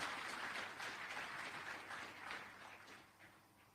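An audience at the African Continental Free Trade Area Conference at Strathmore University in Nairobi applauds to welcome a speaker. The clapping is dense and sustained at a moderate distance and fades slightly toward the end.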